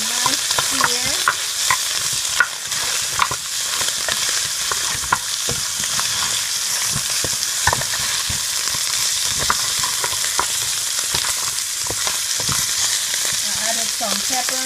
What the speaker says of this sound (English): Right now I'm adding the meat. Right now, making sure they have a nice sear.